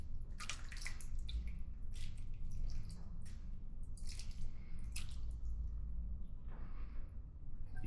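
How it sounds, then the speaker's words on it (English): Meat sauce is spooned over pasta in a baking dish, producing close, thick wet squelches and plops in irregular bursts over a low steady background. "Then we bring in our meat sauce. Do it this way so you can watch it go in there."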